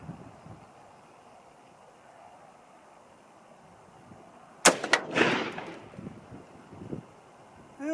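Rifle shots from a 6.5 Grendel fired outdoors, a sharp pair of loud reports close together with echo tailing off, over steady wind noise on the microphone.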